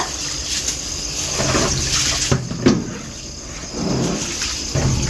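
Water sloshing and splashing as wheat grains are washed by hand in a home kitchen, with steady wet swirling, a few louder splashes and no talking.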